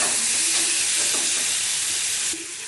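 Green chillies fry in a pan with a steady, loud sizzle and hiss that holds nearly unchanged throughout, easing slightly near the end; no voices.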